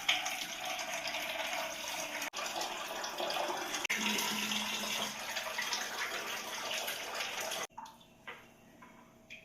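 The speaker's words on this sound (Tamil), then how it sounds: "இப்போ இந்த பனை ஓலையை வாஷ் பண்ணுறதுக்காக நம்ம வந்து தண்ணி வந்து பிடிச்சிக்கலாங்க" A steady stream of tap water runs loudly and continuously to wash palm leaves, then shuts off, followed by a few faint clunks and drips.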